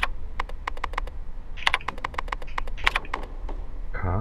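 Rapid, close clicking from a computer keyboard during Daymare 1998 gameplay, with bursts of fast keystrokes and brief gaps over a steady low hum. A short tonal sound closes the sequence.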